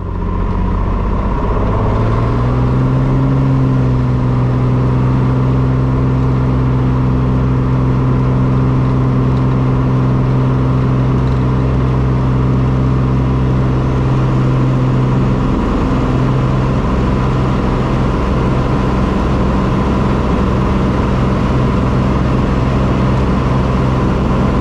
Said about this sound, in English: Comanche 7420, Papa is departing runway 36, departing to the west